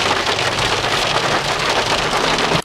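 Rain falls heavily on surfaces outdoors during a storm that raised fears of hail, a loud, dense, steady patter with a sharp knock right at the end.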